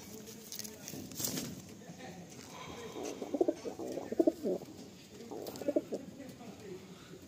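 Madrasi pigeons at a loft give soft, low cooing calls in short clustered bursts partway through, over a steady background murmur with faint voices.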